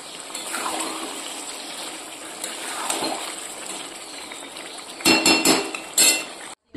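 Meat and potatoes are mixed and sautéed in a pot, a rough hissing scrape of stirring at first, then a burst of clattering metal knocks and clinks against the pot near the end, close and without speech.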